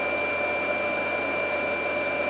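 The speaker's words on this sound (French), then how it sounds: "le ventilateur se met en marche." A steady whirring drone from a cooling fan running, with a constant tonal whine and no pauses or voices.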